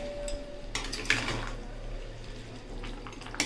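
Fried rohu fish pieces go into a curry pot, giving a few close clinks and scrapes of utensils on metal over a faint bubbling hiss, with no talking.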